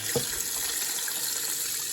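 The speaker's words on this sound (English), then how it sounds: "So I'll run some water in here and kind of slosh it around." Water sloshes around inside a container while tumbled brass cartridge cases are rinsed, a continuous close splashing wash with a faint clink near the start.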